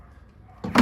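A single door thuds shut near the end of a quiet stretch, a close, sharp slam on a car under repair that follows low background hum.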